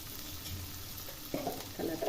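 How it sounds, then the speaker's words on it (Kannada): Paneer fries in oil with turmeric powder, producing a steady soft sizzle with brief louder bursts of scraping as it is stirred near the end. "ಅರಿಶಿನ ಪುಡಿ ಸ್ವಲ್ಪ ಎಣ್ಣೆ ಹಾಕಿ ಹುರ್ಕೊತಾ ಇದ್ದೀನಿ"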